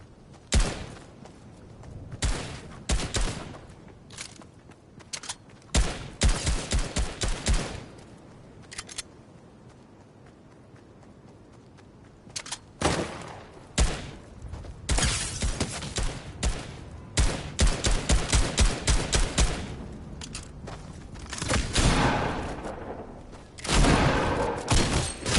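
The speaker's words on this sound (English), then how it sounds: "I hear the firing of weapons, but I don't see the fire of weapons." Bursts of gunfire in the video game Fortnite, with rapid volleys and single cracks clustered in several loud spells separated by quieter gaps, fairly close and with no talking.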